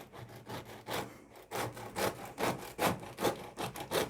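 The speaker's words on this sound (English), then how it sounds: "we're now going to take a slice of it, so we'll have the crust" A knife saws through a homemade loaf baked in a slow cooker, producing rhythmic back-and-forth rasping strokes through the crust, close up and fairly quiet, about eight strokes in steady succession.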